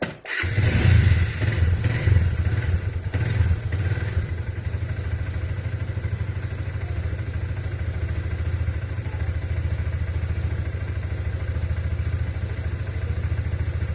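A Honda XR150 dirt bike with a big bore kit fires up and settles into a steady, rumbling idle, loud and close, running continuously without talk.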